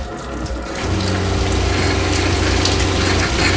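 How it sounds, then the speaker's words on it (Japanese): Water flows steadily from a homemade shower fitted inside a converted police bus, a loud, continuous hiss and gush with no voices over it. "このシャワーノブを開けると出てくれるはずです"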